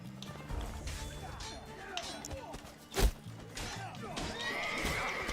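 A horse in a video game whinnies repeatedly while hooves clatter beneath, with a sharp thud midway and a rising squeal toward the end, all fairly close and loud.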